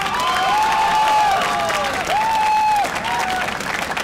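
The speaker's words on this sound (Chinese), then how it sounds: "给大家一个给他们一个更热烈的掌声好吗？" A crowd at a Taipei election-night rally applauds and cheers warmly, a sustained wash of clapping with bright whistles or horn-like tones rising and falling over it before it thins out.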